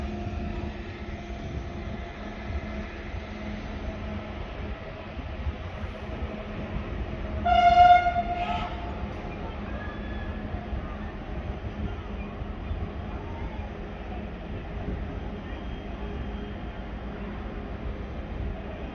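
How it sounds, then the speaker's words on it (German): An ICE high-speed train arrives at Dortmund main station, its steady low rumble running throughout beneath the station ambience, with one brief, loud horn-like tone near the middle. "Da kommt der soeben gewendete ICE 1012 wieder in den Dortmunder Hauptbahnhof eingefahren"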